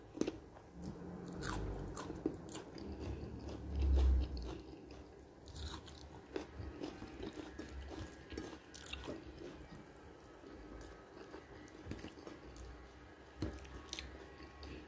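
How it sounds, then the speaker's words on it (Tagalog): A crunchy dried fish side dish is chewed and bitten up close, with a steady run of crisp crunches and wet mouth sounds and one heavier bite early on, and no talking. "Crunchy."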